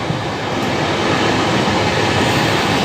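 Inside the Rajdhani Express running through West Bengal, a steady loud rushing roar of the train at speed, with a broadband wash of wheel and air noise and no voices.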